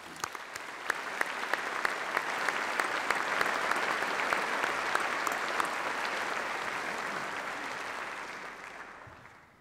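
Sustained applause from a large graduation-ceremony audience honoring university staff, a thick wash of many clapping hands with a few sharper close claps, swelling slightly and then tapering off near the end.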